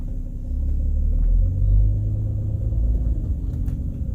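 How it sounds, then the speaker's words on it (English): A car drives with its windows down, giving a steady low rumble of road and wind buffeting that swells slightly midway, with no voices. "you just gotta drive with the windows down, but it kind of be hard to hear with the wind blowing"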